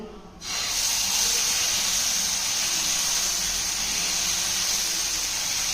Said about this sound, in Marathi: तवा ठेवलेला आहे, त्यामध्ये तेल टाकून घेतलेलं आहे आणि आता हे बॅटर आपल्याला यामध्ये घालायचं आहे।